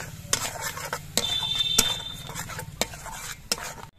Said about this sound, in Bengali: এবার এর মধ্যে দিয়ে দিচ্ছি আমি আদা, কাঁচা লঙ্কা আর রসুনের পেস্ট। এবার এগুলো দিয়ে আমি কিছুক্ষণ কষিয়ে নেব।